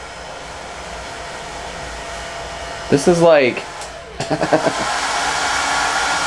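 A hair dryer runs steadily throughout at a photoshoot, a constant loud whooshing hum, with people briefly talking over it midway.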